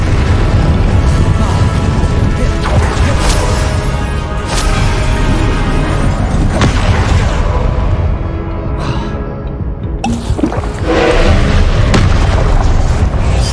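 Loud, booming spell explosions and bursts in the Hogwarts Legacy video game rumble through a fast combat sequence, with repeated heavy blasts and crackles layered under a player shouting spell names, briefly dipping quieter before the blasts return.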